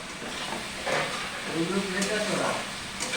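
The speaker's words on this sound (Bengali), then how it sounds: "এখানে পেঁয়াজ আর রসুন ভাজা হচ্ছে" Onion and garlic fry in a pan with a steady sizzle and hiss. Soft stirring runs under it, and a voice murmurs faintly partway through.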